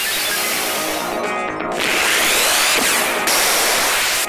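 A Thunderstorm spell effect from the video game Final Fantasy VIII, heard as a loud, sustained crackling roar of broadband static with sharp surging bursts, standing alone without talk.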